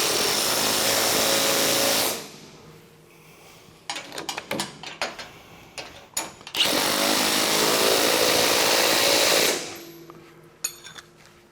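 A power tool tightens a nut on the rubber cut edge of a MUSKOX snowblower, two long loud steady whirring bursts with clattering handling noise between them.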